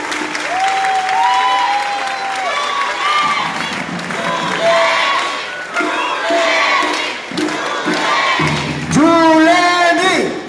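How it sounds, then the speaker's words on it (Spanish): A crowd at a municipal campaign rally in Villa de Álvarez applauds and cheers loudly and steadily for the candidate. Whoops and shouting voices ride over the dense clapping, which swells again near the end. "Fuerte el aplauso, que se escuche."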